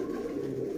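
A pigeon held in the hand gives a short, soft cooing call, low and close, alone against a quiet background.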